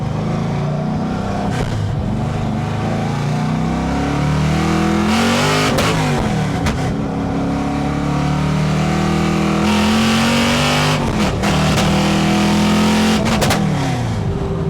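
A car engine revs hard again and again on a test drive, climbing and dropping in loud, close surges. It stutters and cuts out abruptly in places from an electrical fault, with brief bursts of noise between the pulls.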